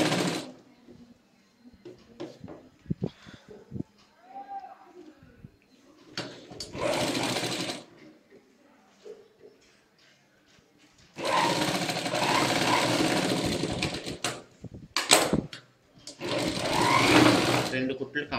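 A sewing machine stitches a half-inch seam on a blouse shoulder, running in bursts of steady whirring broken by pauses. Someone speaks in the gaps between runs and faintly over the stitching.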